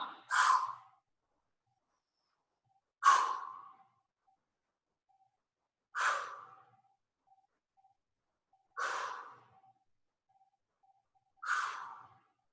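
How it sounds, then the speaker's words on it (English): A person breathes hard during a timed exercise interval, five loud breathy exhales or sighs spaced about three seconds apart, with quiet gaps between. "Hopefully you can hear my breathing."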